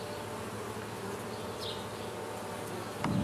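Agitated honey bees swarming in front of a backyard hive, a continuous dense buzzing drone at moderate level, with a slightly louder, closer buzz near the end.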